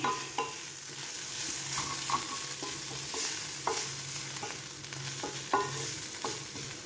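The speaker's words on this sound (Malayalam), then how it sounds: "ആ കറിവേപ്പിലയിലെ എണ്ണ ഒന്ന് പറ്റാൻ വേണ്ടി നല്ലപോലെ ഒന്ന് ഇളക്കി കൊടുക്കാം" Beans and carrot stir-fry being stirred with curry leaves in a hot pan, a spatula scraping and tossing in repeated strokes over a steady oily sizzle, close and clear with no voices.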